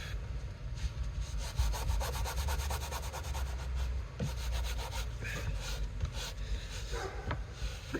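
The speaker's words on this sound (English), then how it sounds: "Rub out any wrinkles" Fingers rubbing firmly over a freshly glued leather slingshot pouch to press out wrinkles, a continuous close scratchy rubbing with rhythmic strokes and no speech.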